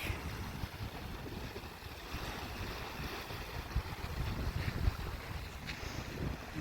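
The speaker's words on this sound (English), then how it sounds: "Water lapping up on the beach." Gentle water laps against the beach of a man-made reservoir lake beneath a constant rush of wind noise, soft and continuous with no voices.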